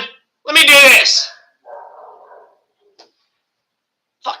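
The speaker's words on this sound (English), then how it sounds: "they're barking at them, but it's not barking at threats" Dogs bark while other dogs are loose, with one loud, close bark followed by fainter, muffled yaps and a couple of sharp clicks, as a voice speaks around them.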